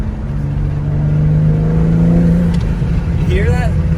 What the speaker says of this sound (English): You hear that? You hear the turbo?